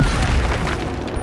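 Fire spells exploding in Hogwarts Legacy on PlayStation 5, a dense booming blast lasting about a second, loud and close, with no talk over it.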